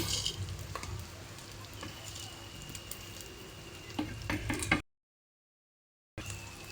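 Spice powders are stirred in a hot pan for a Kerala-style duck curry with coconut pieces, giving soft scraping and light sizzling with a few sharper clinks of the spoon, then a brief silence before the stirring resumes.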